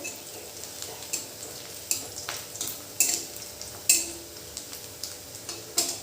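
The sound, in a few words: onions frying and being stirred in a pan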